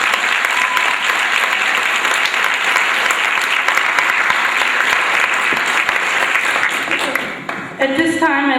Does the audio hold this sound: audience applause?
yes